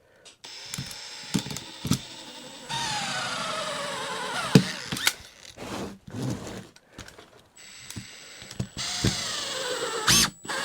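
Makita DFR551Z 18V brushless auto-feed screwdriver driving stainless steel screws, several short whirring bursts with clicks of the feed mechanism in between, close and fairly loud.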